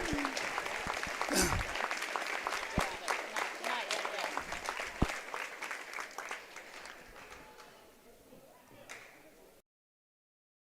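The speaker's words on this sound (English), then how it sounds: "if we could have a round of applause for all of our seniors out here tonight" Crowd in a high school gym applauding seniors at a West Central vs United varsity volleyball match, dense clapping loud at first and gradually thinning and fading, with a few sharp isolated claps and a brief voice near the start.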